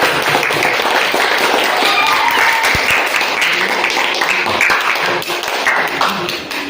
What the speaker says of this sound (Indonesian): Tepuk tangan buat semua kita ya